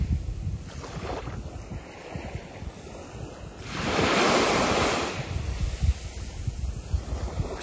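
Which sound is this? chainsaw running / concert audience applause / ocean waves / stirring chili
ocean waves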